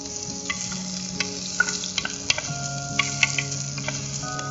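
Chopped garlic and green chilli frying in a clay pot, a steady oily sizzle broken by sharp scraping clicks of stirring, close and alone without any talking.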